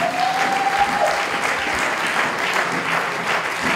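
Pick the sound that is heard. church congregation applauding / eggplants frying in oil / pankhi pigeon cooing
church congregation applauding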